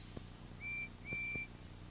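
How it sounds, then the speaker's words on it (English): Two faint, thin steady whistle tones from a toy-like animated tank engine in a row, the second longer, sounding distant and quiet against a low hum. "Thomas listens to Percy's whistle"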